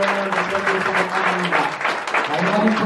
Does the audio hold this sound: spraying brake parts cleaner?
no